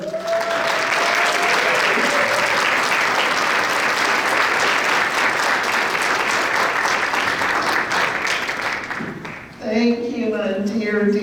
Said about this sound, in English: Please help me welcome with a long and loud applause